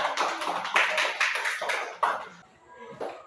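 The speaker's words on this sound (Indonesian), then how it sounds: "Sudah, tepuk tangan dulu kita semua." A group of students claps together in a classroom. The dense, scattered applause lasts about two seconds, then tapers off into a few faint claps.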